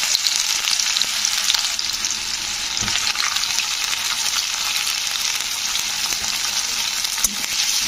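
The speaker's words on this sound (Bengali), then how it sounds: "তো পেঁয়াজগুলো দিয়ে পেঁয়াজগুলো একটু ভাজতে হবে।" Onions frying in hot oil with cardamom, cloves and cinnamon for a fish-head cauliflower curry, a steady close, loud sizzle broken by a few soft stirring scrapes.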